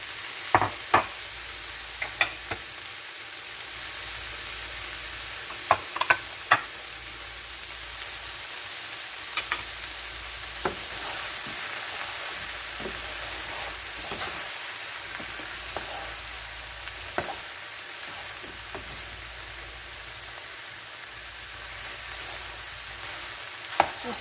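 Chicken, vegetables, scallions and tomatoes fry in a pan with a steady hiss, broken by scattered clinks and scrapes of a utensil stirring against the metal.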